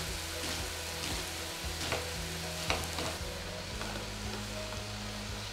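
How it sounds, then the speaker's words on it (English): Ground turkey and diced onions fry in a pot for an Italian turkey bean soup, giving a dense continuous sizzle with faint scraping stirs, close and steady with no talk. "we're just gonna cook this until the turkey is brown and the onions are translucent"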